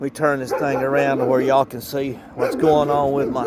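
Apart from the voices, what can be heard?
dogs barking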